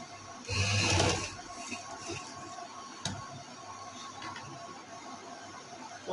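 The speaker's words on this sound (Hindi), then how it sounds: "अब इधर भी हम 4-5 सिलाई लगाएंगे" A sewing machine stitches a fitted bedsheet in a short, loud mechanical burst, followed by faint handling clicks and quiet room noise.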